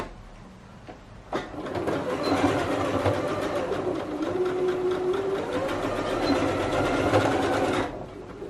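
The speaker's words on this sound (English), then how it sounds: "I'm just going to stitch on my line." A sewing machine runs steadily for about six seconds, stitching along a marked line on a mitered fabric corner, with a close, even mechanical whir and rapid needle chatter and no talking over it.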